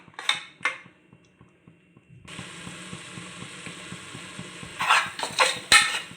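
Masala frying in oil in a pan for a Tamil lunchbox recipe: a soft steady sizzle rises partway through, with a few sharp spoon clinks against the pan at the start and again near the end.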